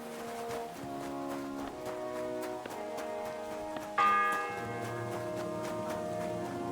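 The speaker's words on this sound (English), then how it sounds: "The first bell." In the Kingdom Come Deliverance 2 game, a church bell tolls once with a bright ringing strike that lingers and decays, set over a continuous bed of soft orchestral music.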